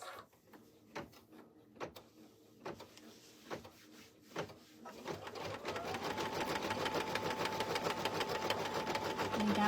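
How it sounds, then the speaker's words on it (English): An embroidery machine stitching a heart design for an in-the-hoop slap bracelet at a very slow speed: first sparse, separate mechanical clicks, then a steadier, denser whirring run of stitches, close by. "I have my machine's stitching speed turned down like super slow because it stitches better"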